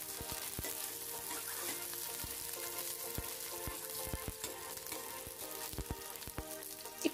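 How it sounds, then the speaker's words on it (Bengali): Chopped onion and a dried red chilli crackle and sizzle steadily in plenty of hot oil, a dense close frying hiss with sharp pops throughout. "পেঁয়াজগুলোকে হালকা করে ভেজে নিচ্ছি"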